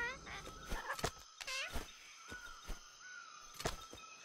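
Birds in the video game Atlas give harsh, squawking calls in scattered bursts, some rising and falling in pitch, with quiet gaps in between, fairly close.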